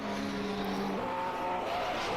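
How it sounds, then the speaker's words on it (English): The engine of a 1967 Ferrari Formula 1 race car in a sim racing game at Kyalami screams at high revs, with pitch stepping up through a gear change over a constant dense roar. "Very nice engine sound for the Ferrari"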